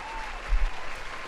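Brief applause from a small audience, a soft patter of clapping with a couple of low thumps, lasting just over a second.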